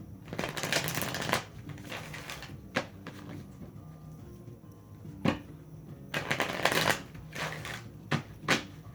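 A deck of tarot cards being shuffled up close, with several bursts of riffling and flicking cards, short taps and pauses in between, no talk.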